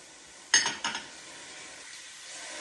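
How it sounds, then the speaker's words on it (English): Wine poured into a hot pan of balsamic roasted winter vegetables for lentil soup, a sudden hiss and sizzle that flares twice then settles into a soft, steady frying crackle. "Now, we're going to add the 1/4 cup of wine."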